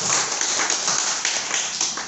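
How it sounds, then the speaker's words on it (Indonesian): An audience claps for Nagaya, a short burst of steady, moderately loud applause filling the whole moment. "Tepuk tangan dulu dong untuk Nagaya."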